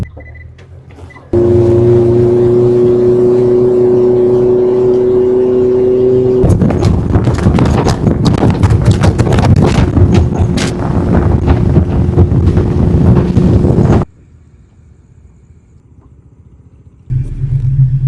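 A fishing boat's engine runs on a Kerala backwater at night, a loud steady drone with buzzing harmonics that soon turns into rough, buffeting rumble and wind roar close to the microphone, then cuts to a quieter hum.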